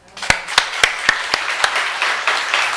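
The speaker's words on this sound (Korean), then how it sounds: "하나님께 영광의 박수." A church congregation breaks into applause, starting with a few sharp, evenly spaced claps that quickly blend into a fuller, rhythmic round of clapping from many hands.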